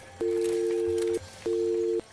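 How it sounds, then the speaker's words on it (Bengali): A cartoon phone dials a health helpline and two steady, electronic ringing tones of about a second each sound with a short gap between them, clear and fairly quiet. "তুমি এক ছয় দুই ছয় তিন নম্বরে স্বাস্থ্য হেল্পলাইনে ফোন দাও"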